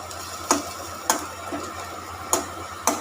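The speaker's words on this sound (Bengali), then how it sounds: "এর মধ্যে শুকনো লঙ্কা ফোড়ন দিয়েছি আর কালো জিরে" Dried red chillies and black cumin sizzling in hot oil, a steady close hiss punctuated by four sharp spoon-on-pan taps at uneven intervals.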